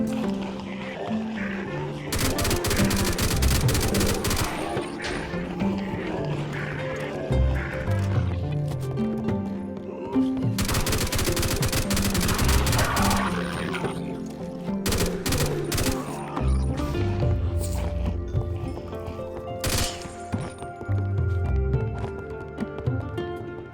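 Gunfire in the Minecraft modpack Deceased Craft as a horde is fought off: loud, dense bursts of rapid automatic fire in several long volleys, with short gaps and single shots between them, over a busy game background.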